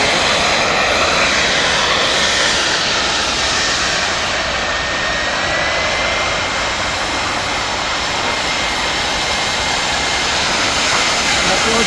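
An RC Bluebird model boat powered by a Wren jet engine runs at full throttle, giving a loud, steady, unbroken jet roar that stays close and constant from start to finish.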